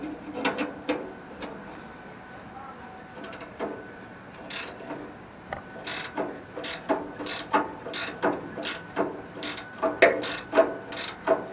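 A ratchet wrench clicks steadily as it backs out bolts from the brake pedal linkage of an old, abandoned go-kart, the rapid close pawl ticks coming in repeated bursts that grow louder toward the end, with no talking.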